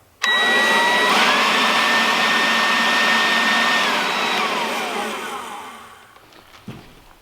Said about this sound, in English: Now here's the blower on high.